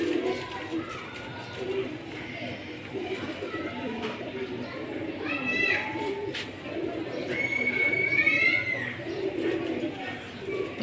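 Pigeons of an old black-necked fighter breed coo softly and intermittently amid other faint bird calls, with someone talking over much of the sound.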